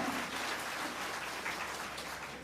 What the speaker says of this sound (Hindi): आप सब इनको आशीर्वाद दें, जोरदार ताली बजा करके आशीर्वाद दें